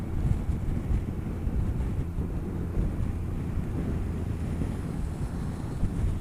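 Heavy wind roar buffeting the microphone while riding a motorcycle on a UK road in windy conditions, a loud continuous low rumble with irregular gusty surges and no talk.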